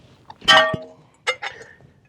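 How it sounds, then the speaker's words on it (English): Glass breaker on the end of a Gerber StrongArm knife smashing a spare piece of ceramic tile: a sharp loud crack and clatter, a low thud, then two smaller clinking impacts as fragments break, with no talking. "I had a spare piece of tile, and I thought I would use that to illustrate the glass breaker on the end of this knife"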